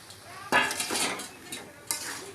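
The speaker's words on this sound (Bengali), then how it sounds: "এটা একসাথে ঘুটে নেবো" A spoon stirs a potato, eggplant and bean curry in a pot, giving a few close, sharp scrapes and clanks against the metal with short pauses between them.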